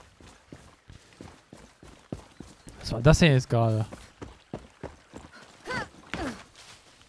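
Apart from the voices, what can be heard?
horse hooves and neighing from video game Far Cry 6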